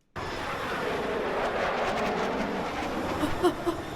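Helicopter in a video game, a steady broadband rotor-and-engine roar that starts abruptly and holds at moderate loudness throughout, with a few faint higher chirps near the end.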